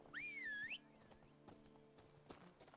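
Roach the horse in The Witcher 3: Blood and Wine, opening with a loud whinny followed by a run of quieter, irregular hoof clops.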